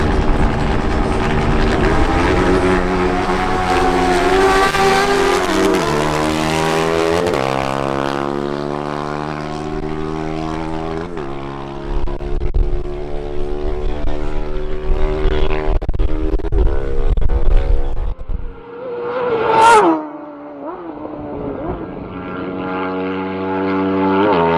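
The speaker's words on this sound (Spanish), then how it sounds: "Ahora tenemos una nueva pasada de Dan Monsalve en su Honda CBR1000RR" A Honda CBR1000RR motorcycle makes a quarter-mile drag run at the Autódromo Motor Sport Park in Barranquilla. The engine screams loud and near, climbing in pitch through repeated gear shifts, then drops away, followed by a brief sharp burst.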